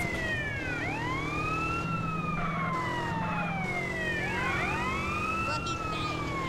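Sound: police car siren in video game GTA San Andreas

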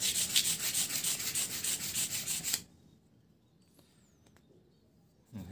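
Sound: scrubbing rust off a sharpening stone

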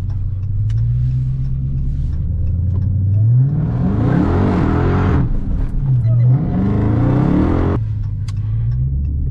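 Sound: Dodge Hellcat Charger with stage kit accelerating hard

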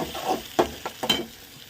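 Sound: onions and tomatoes sautéing in pan

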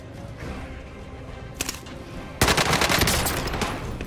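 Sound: gunfire in the Warzone video game

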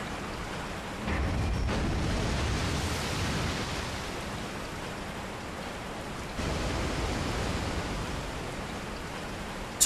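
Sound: waterfall in Resident Evil 4 VR video game

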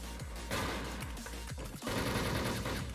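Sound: gunfire in a video game

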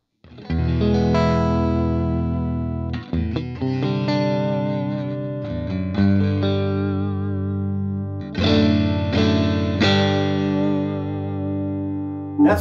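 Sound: electric guitar with Raw Vintage 64 reverse wound pickups

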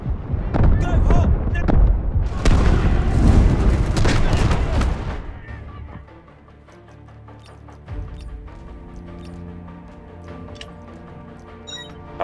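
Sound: artillery fire in video game Delta Force

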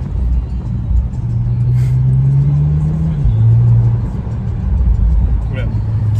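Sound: sports car accelerating past

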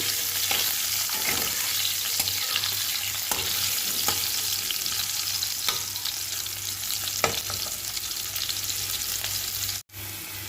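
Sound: potatoes frying in a pan

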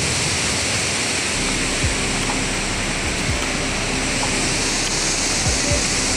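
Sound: powerful waterfall, Barachukki waterfalls

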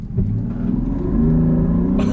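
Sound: 2020 Land Rover Defender P400 accelerating in sport mode, 0-60 run

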